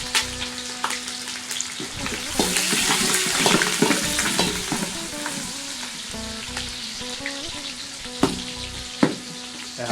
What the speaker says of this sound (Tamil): இப்போ வந்து பார்த்திங்கன்னா வெங்காயம் வந்து வதங்கிட்டு இருக்கு